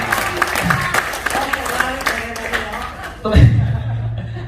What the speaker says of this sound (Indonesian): Tepuk tangan buat Bu Suryanti ya.